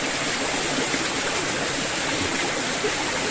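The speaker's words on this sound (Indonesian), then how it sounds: "Untung kita mendengarkan aliran sungai, jadi kita turun ke bawah, kita ngikut aliran sungai ini ya guys." A flowing river stream in a forest, a steady, loud rush of water with broad, even noise and no pauses for the whole short stretch, heard alone without any voices.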